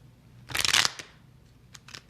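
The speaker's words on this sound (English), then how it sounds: "I'm shuffling the cards" A deck of cards is shuffled in one quick, crisp riffle lasting under half a second, close up, followed by a few light taps and clicks.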